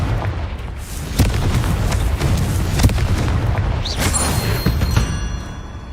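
Confringo fire spell explosions from Hogwarts Legacy gameplay: dense booming blasts and sharp bursts layered over a constant rumbling din, with louder hits standing out near the start, middle and end.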